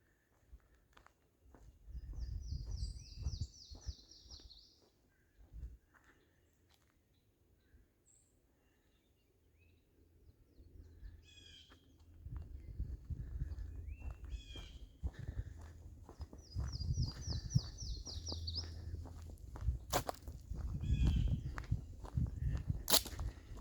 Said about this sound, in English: the birds are definitely happy today